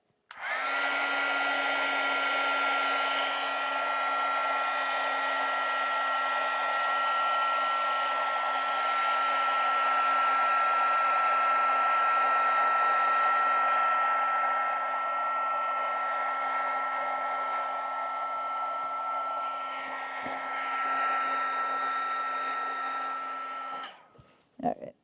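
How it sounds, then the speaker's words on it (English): A heat gun drying paint on a gelli print blows a steady, loud whooshing roar with a faint high whine, running continuously for about twenty-four seconds before cutting off with a click. "I'm gonna hit that with a heat gun before I smear it anymore"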